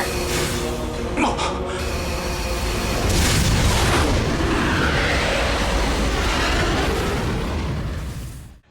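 A cannon blast booms from an animated film, a loud sustained explosive roar with a sharp crackle early on, swelling and rumbling heavily for several seconds before cutting off.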